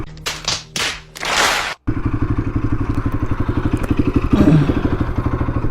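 A motorcycle turning in a narrow street idles and putters with a steady, close, pulsing engine chug, preceded by a few loud rustling bursts and a brief cut.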